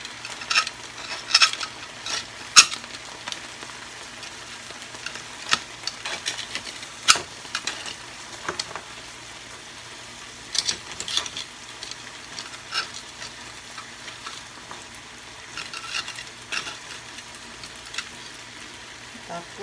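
Spicy seafood stirred and frying in a pan gives a low sizzle with scattered scraping and clinking utensil strokes at an irregular rhythm, close and moderately loud, and no talk is heard.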